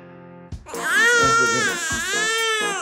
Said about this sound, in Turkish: Lan bebeğim, ağlama.